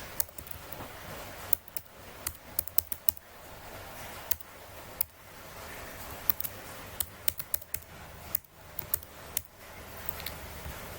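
Someone types an email address on a computer keyboard while setting up a website account, with sharp irregular clicks and small bursts of keystrokes, close and steady, without speech.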